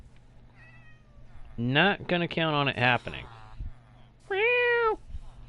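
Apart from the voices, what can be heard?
cats meowing in the video game Minecraft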